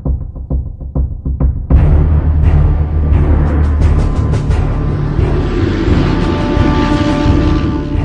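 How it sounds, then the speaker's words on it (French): American and British aircraft landing on the frozen ground of Saki airfield in February 1945: a few soft thumps give way to a loud, steady, throbbing engine drone that continues to the end. "des avions américains et britanniques, partis dans la nuit, atterrissent sur le sol gelé de l'aéroport de Saki"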